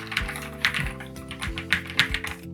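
Typing on a NuPhy Air 75 V3 low-profile wireless mechanical keyboard: a quick, uneven run of crisp clacking keystrokes, close up, over a steady tonal background.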